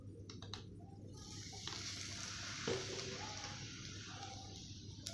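Dough and egg snack frying in a little oil in a pan, a continuous soft sizzle and hiss that holds steady throughout, close up, with faint handling noises and no talk.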